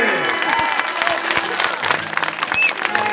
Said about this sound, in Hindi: जरा मिला के दिखाइए तो जोरदार ताली दीजिए